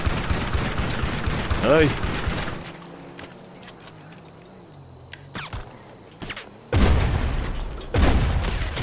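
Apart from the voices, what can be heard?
gunfire in a shootout in video game Grand Theft Auto (Los Santos)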